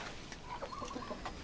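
Chickens in a coop, mostly roosters among laying hens, cluck softly and intermittently, faint short calls over a quiet background hiss.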